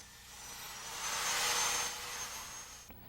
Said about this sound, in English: We drill through the assembly with a long 1/2-inch drill bit.